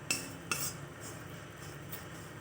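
A spoon stirring food in a pan during Bengali breakfast cooking, with a couple of clear metallic clinks against the pan followed by softer scraping and stirring, close and fairly quiet.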